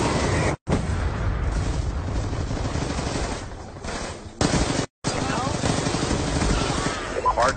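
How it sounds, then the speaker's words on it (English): Hellstorm missile strikes in the multiplayer game Black Ops 2 boom in a dense, loud wash of explosions and gunfire that runs almost continuously, broken by two brief dropouts, with voices talking over the din. "Friendly Hellstorm missile inbound."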